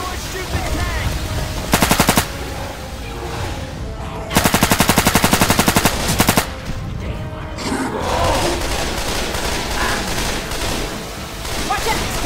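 Bursts of rapid automatic gunfire in Left 4 Dead 2 as players shoot at a Tank, two loud sustained volleys over a constant roar of game noise and chaos, with faint voices in the mix.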